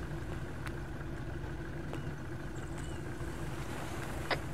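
A boat's engine running as a steady low drone with wind and water noise, loud and continuous, with a few faint clicks on top.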